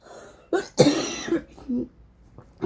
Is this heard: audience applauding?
no